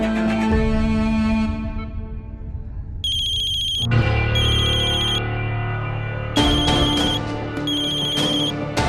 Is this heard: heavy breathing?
no